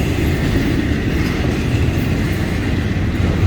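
A Florida East Coast Railway freight train rolls past close by while slowing down, a loud, continuous roar of wheels and rail noise with no voices.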